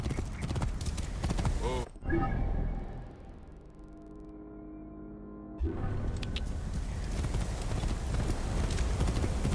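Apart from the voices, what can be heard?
horses galloping in video game Assassin's Creed Origins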